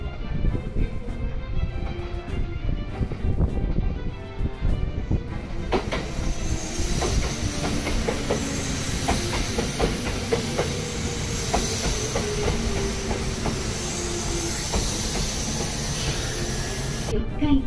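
A Shimakaze limited express train rumbles through a Japanese station at speed, with loud rolling wheel clatter, rhythmic rail clicks and a high hiss, continuing close for many seconds while someone talks briefly.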